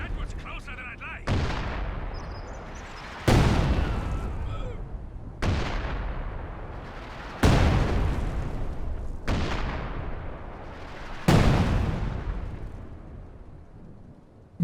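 Artillery shells exploding in a video game with the Commander patch, five or six separate heavy blasts landing a couple of seconds apart, each with a sharp onset and a long rumbling decay, with no talk.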